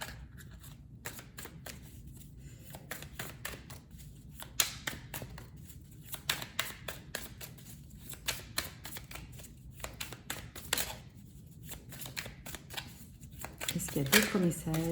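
Tarot cards are shuffled and handled close up in a quiet room, giving repeated crisp riffles and soft slaps in irregular bursts, with someone speaking between them.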